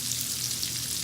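Potatoes frying in a cast iron pan give a steady, dense hiss of sizzling oil, close and even, with no voices over it.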